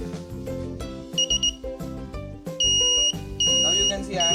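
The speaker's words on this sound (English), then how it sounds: "as I am moving while shooting, it will start beeping" An Arduino-based PIR motion security alarm sounds in a room, its sharp electronic beeps coming in short bursts and then longer sustained tones over a background of music.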